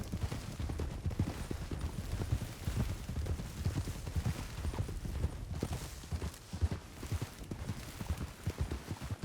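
Horse hooves clip-clop steadily on hard ground, a continuous rhythmic clatter with no voices.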